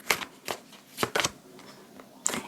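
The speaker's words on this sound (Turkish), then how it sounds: "Bir kart daha alacağım arkadaşlar buraya." Tarot cards slid and drawn from a deck, several short crisp rustles and flicks in quick succession, close and fairly quiet, with no talking.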